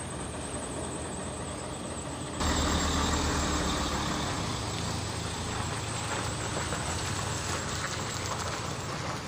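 A truck trailer's engine idles, then rises into a steady, louder rumble as the trailer is maneuvered forward in jammed traffic, continuous and moderately close with faint road background.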